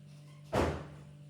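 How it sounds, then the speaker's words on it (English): A door is pulled shut indoors, one solid thud that rises out of a quiet room tone and dies away quickly. No one speaks. "Can you all close that door, please?"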